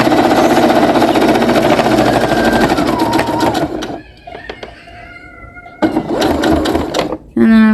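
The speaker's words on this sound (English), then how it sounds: "I'm going to back stitch so it closes the stitch just a couple times" Home sewing machine stitching fabric for a bow, whirring rapidly and loudly for about four seconds, pausing, then running again in short back-stitch bursts; a voice talks during the quiet gap.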